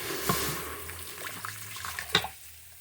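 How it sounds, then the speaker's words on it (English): Tap water runs into a pot for pressure cooker pork belly kakuni, a faint steady stream with a few light clinks and drips, quiet and close, no talking. "I'm going to get some water"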